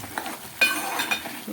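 A spoon stirs chopped coriander into mutton keema curry in a pan, giving a few soft scraping and clinking strokes over a faint sizzle, with no talking.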